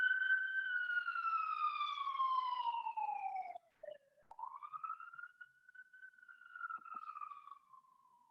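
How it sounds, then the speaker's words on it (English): An ambulance siren wails as it passes, one long loud tone sliding slowly downward, then a brief dip and a second rising and falling sweep that fades as the vehicle moves away. "there was a really loud ambulance, so I stopped the recording so it would pass"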